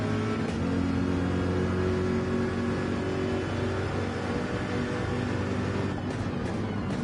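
Corvette race car in Gran Turismo 7 at Monza, its engine holding a loud, steady high-revving drone down the straight, with faint tire and wind hiss and a slight shift in pitch near the end.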